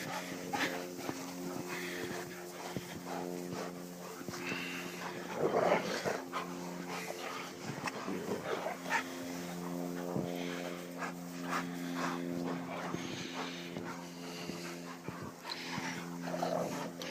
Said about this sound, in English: doesn't matter the weather, dogs still go outside.